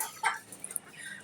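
Thirty-five-day-old European white quail of the giant coturnix type give a few short, sharp calls, one louder chirp followed by quieter clucks, nearby in a pen.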